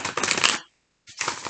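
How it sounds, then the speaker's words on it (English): Playing cards being riffled during a tarot-style reading, two quick bursts of crisp fluttering separated by a short silence, fairly close and alone. "I apologize for the noise. I am going to give it a couple little shuffles here."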